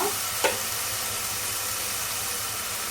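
Mushrooms cooking in oil in a pan for a mushroom masala curry, giving a steady, quiet sizzle and frying hiss throughout, with one brief clink or stir near the start.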